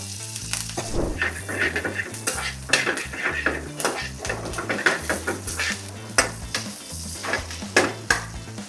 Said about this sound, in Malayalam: ഇപ്പോൾ ഈ കൊച്ചുള്ളി വന്ന് ചെറുതായിട്ട് റോസ്റ്റ് ആയിട്ടുണ്ട്